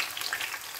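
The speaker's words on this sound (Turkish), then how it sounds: "Burada da salçasını kavuruyor." Vegetables and tomato paste frying in a pan, a short burst of close, steady sizzling with faint stirring crackles and no voices.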